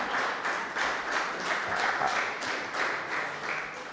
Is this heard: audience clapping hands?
yes